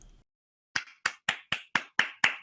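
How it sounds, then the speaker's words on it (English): A handful of claps sound at the end of an online presentation, seven sharp, evenly spaced hand claps after a brief murmur and a pause, close and clear. "I hear applause"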